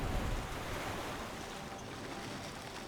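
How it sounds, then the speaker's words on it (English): Water scooped up in the video game Myst IV: Revelation, a broad steady wash of sloshing water with a heavier splash at the start, continuous and fairly close with no voices. "Scoop up the water."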